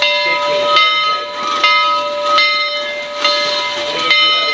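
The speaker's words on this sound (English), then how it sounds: "a 1911 steam locomotive being turned by a 1916 turntable" A 1911 steam locomotive is turned on a 1916 turntable. Loud, close hissing steam and a sustained whistle-like tone carry through with repeated metallic clanks.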